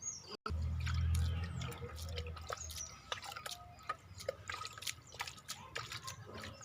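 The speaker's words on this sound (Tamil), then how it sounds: "தண்ணி தெளிக்கணும்." Water is sprinkled by hand onto small potted mint plants, soft scattered drips and light patters, faint and close, with a quiet voice speaking now and then.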